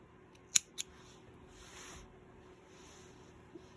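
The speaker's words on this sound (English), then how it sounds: "I'm gonna snip off" Scissors snipping off crochet yarn at the corner of a peacock cross body sling bag: two quick, crisp snips close by in a quiet room, followed by faint handling noise.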